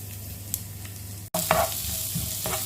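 Garlic frying in a little butter in a pan, a steady broad sizzle with stirring scrapes and a brief clatter midway, close and alone with no talk.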